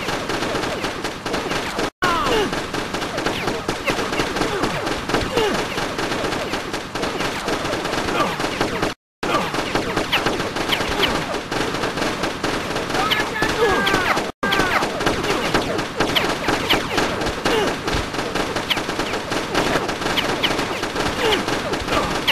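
Enemy gunfire in the Wii shooter Far Cry Vengeance, dense continuous bursts of automatic fire and shots crackling throughout, loud and busy with only brief dropouts.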